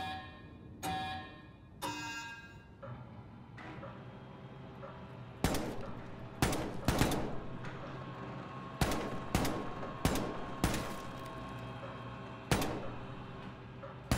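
Shots fired at a shooting range in Wolfenstein 2: The New Colossus ring out as a scattered series of sharp reports, a few early ones then clusters of loud cracks with brief gaps, over a steady low background hum.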